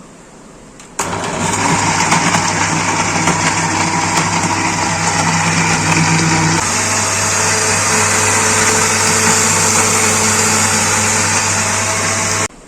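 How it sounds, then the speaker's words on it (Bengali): Countertop blender running a banana milkshake blend with raisins, dry dates and pumpkin seeds: a loud, steady motor whir starts after a second and holds unbroken, dropping slightly in pitch partway as the mix thickens, with no talking. "এবার আমি এগুলো ভালোভাবে মিক্স না হওয়া পর্যন্ত ব্লেন্ড করবো"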